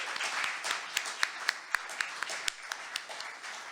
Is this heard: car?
no